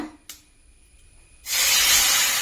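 Ground ginger pachadi hits hot oil already crackling with mustard seeds, curry leaves and dried red chilies, bursting into a loud, sustained hiss after a quiet lead-in with a small tap.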